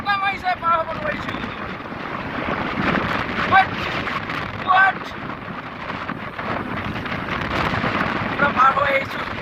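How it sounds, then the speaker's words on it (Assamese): Strong wind buffets the microphone with loud gusty rumble during a boat crossing of a river, continuous and close, with voices calling out over it. "বতাহ মাৰিছে পাৰ হ'ব নোৱাৰিছোঁ"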